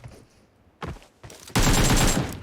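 Gunfire aimed at a chaos demon in a video game, heard as a couple of short bursts followed by a loud, sustained volley of rapid shots close up.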